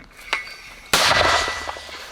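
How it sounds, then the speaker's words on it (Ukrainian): Ukrainian soldiers of the Steel Border unit fire a weapon: a faint metallic click, then a single sharp, loud blast close by that rings out and fades into rumbling echo. "Постріл!"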